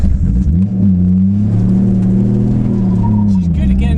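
A Nissan R33 Skyline's engine revs hard close by while stuck in mud, a loud, deep rumbling roar whose pitch climbs and dips as the throttle rises and falls.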